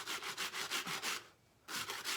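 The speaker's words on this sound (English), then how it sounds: "Now let's do the other 2 sides with the sanding block." A sanding block rubbed back and forth over painted wooden furniture in steady, even strokes, close and fairly quiet, with a brief pause before the strokes resume.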